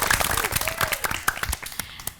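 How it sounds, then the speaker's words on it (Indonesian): A quiz show studio audience bursts into applause, a close crowd of hands clapping briskly and then tapering off, with a voice speaking over it. "Tepuk tangan."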